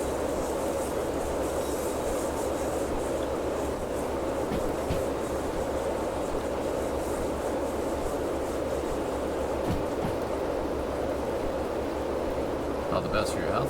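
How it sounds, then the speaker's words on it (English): Big American-style locomotive in the train game Derail Valley, a steady low engine rumble and rail noise running continuously and fairly loud for the whole stretch. "Big American style locomotive, dude."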